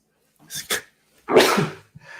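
A single sharp sneeze, preceded by a couple of short breathy sounds and followed by a brief pause and faint noise.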